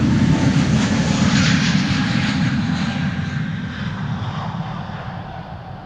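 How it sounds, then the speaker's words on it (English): An EasyJet Airbus A320neo jet takes off from Amsterdam Schiphol, its engines giving a loud, sustained roar close by that stays strong and very slowly fades across the whole stretch, with no talk. "EasyJet already lining up at the threshold. A320neo to Birmingham."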